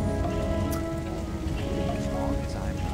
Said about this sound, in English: At 11:02, the rain has begun, right?